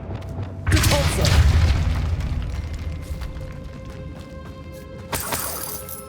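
A Depulso force spell in Hogwarts Legacy blasts objects apart with a loud booming crash and shattering debris, followed by a long rumbling decay and a second smaller impact near the end.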